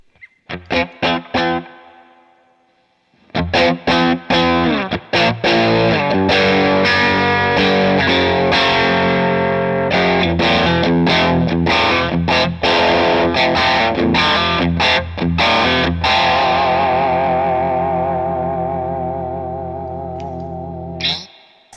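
Electric guitar played through a Coppersound Strategy preamp pedal with distortion, loud saturated chords and riffs with long sustain, beginning with a few short stabs, then a continuous driven passage that rings out and fades at the end.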